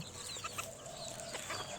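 Faint, high-pitched peeping of newly hatched chicks, scattered chirps over a steady low background hum, no voices.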